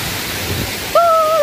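Steady broadband rush of mountain water flowing downhill in the hills near Kurseong fills the clip, with a brief whistle-like tone near the end.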